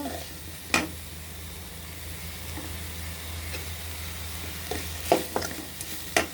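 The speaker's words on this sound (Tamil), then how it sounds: "நல்லா வதக்கணுங்க" Vegetables sautéing in a pan for vegetable biryani: a steady soft sizzle with a few sharp clinks of a spoon scraping and stirring, close by.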